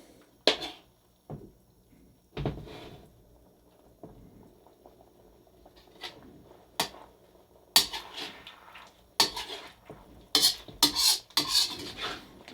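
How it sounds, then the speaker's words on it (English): Ginger beef stir-fry sauce simmering and bubbling in a pan, soft steady sizzle broken by sharp clinks and scrapes of a utensil against the pan, close by and without talk. "Now it's really starting to simmer more."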